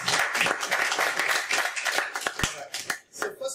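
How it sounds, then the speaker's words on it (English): Brisk audience applause for distinguished panellists at a panel discussion on Indian elections, many hands clapping close and dense, then thinning into a few scattered claps near the end. "A louder round of applause."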